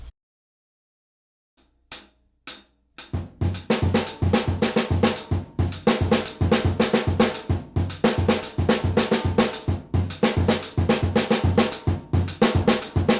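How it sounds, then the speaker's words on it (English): Drum kit groove on bass drum and snare drum alone: after a couple of sparse opening hits, a steady driving pattern of punchy kicks and sharp snare backbeats plays loud and close to the end. "For this pattern, we could start by just dealing with the bass drum and snare drum alone"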